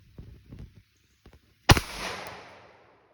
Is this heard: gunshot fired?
yes